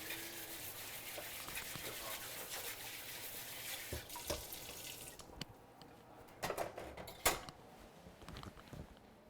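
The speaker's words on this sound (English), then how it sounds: "I have to quickly give a little rinse to our fine mesh strainer" Water runs from a kitchen tap over a fine mesh strainer during broth-making, a quiet steady rinse that stops partway, followed by scattered clinks and handling knocks.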